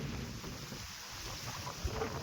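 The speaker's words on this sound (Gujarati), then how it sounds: "વરસાદને આ પવન કેવો આવે છે" A strong gusty wind sweeps through during a morning rainstorm, buffeting the microphone with a low, continuous rumbling roar and no clear voices.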